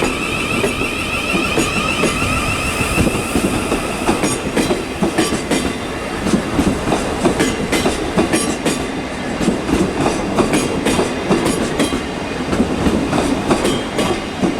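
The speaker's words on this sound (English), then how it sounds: "Partner now is a 1233 South Western Railway service to London Waterloo." A South Western Railway service to London Waterloo rolls through Weybridge station on the South West Main Line, loud and near, with continuous wheel clatter and rhythmic clickety-clack over rail joints plus faint squeals, no talking.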